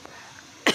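A single short cough comes near the end, close and sharp, after a windy outdoor background of soft rushing noise.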